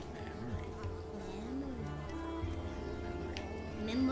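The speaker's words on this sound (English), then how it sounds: "I'm being attacked by bugs. Ah! Is it bees? Wasps?" Bees or wasps swarm and attack in the yarn-creature platformer Unravel. A steady, close insect buzz drones under soft game music without a break.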